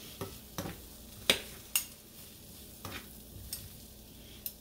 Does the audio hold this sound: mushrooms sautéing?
yes